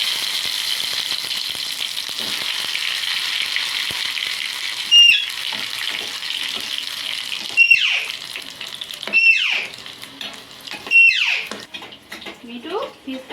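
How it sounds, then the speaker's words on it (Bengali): Fish cutlets go one by one into very hot oil over a medium gas flame, a steady hiss and sizzle with several brief sharper crackles as each piece enters, while a voice speaks now and then. "এবার আস্তে আস্তে এগুলো ছেড়ে দিয়ে ভেজে নেব।"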